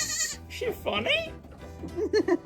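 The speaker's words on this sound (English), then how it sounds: "Ooh, you like the goat?" A goat on a farm gives a few short wavering bleats, close and fairly loud, mixed in with people speaking nearby.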